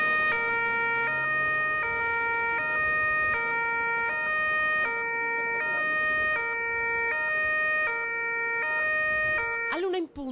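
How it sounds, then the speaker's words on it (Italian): Emergency vehicle sirens in a Treviso police and civil protection flash mob wail loud and near in a repeating two-tone pattern, continuous for about ten seconds. "All'1 in punto le sirene iniziano a suonare"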